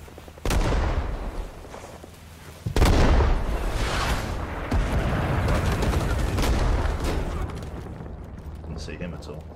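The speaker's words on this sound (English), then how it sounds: "Alright, artillery coming in." An artillery barrage in Rising Storm: Vietnam, with heavy booms and crashing impacts at irregular intervals over rolling gunfire, and a player's voice talking through the chaos.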